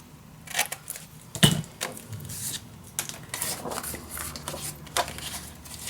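Paper corners snipped with scissors while making a Christmas December Daily mini album, heard as a string of short, crisp close-up cuts and crinkles with light handling noise between them.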